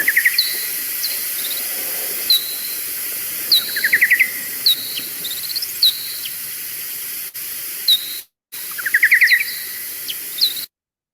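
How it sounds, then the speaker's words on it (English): A pipistrelle bat's echolocation calls play back through a bat detector as repeated clusters of rapid, high chirping clicks over a steady hiss, arriving in irregular bursts every second or two, with a brief dropout near the end. "those high-pitched chirps we were hearing, those are the echolocation calls that the bat's emitting"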